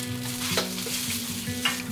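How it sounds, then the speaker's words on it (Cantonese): Rice is stir-fried in a hot wok, with continuous loud sizzling broken by brief scraping stirs of the spatula, over low background music. "將個飯炒香佢，辣到個飯香晒啦"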